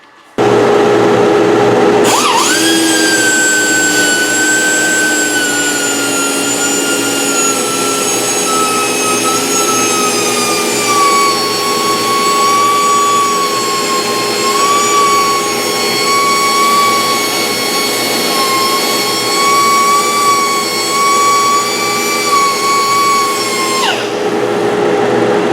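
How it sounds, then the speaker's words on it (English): A power sander works a spalted maple bowl spinning on a wood lathe, giving a steady, loud whine with a high tonal hum that drifts slightly in pitch, running continuously for over twenty seconds before cutting off. "let's get her sanded and see what she looks like."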